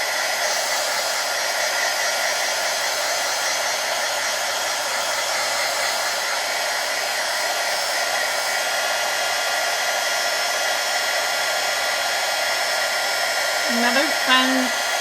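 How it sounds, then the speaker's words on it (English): A heat gun blows a steady, loud hiss of air as it dries gesso on a craft sheet, holding constant throughout with no talking. "Another fun thing to do with gesso is to really blast it with the heat gun."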